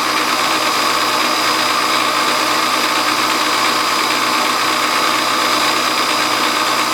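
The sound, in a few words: milling machine climb cutting metal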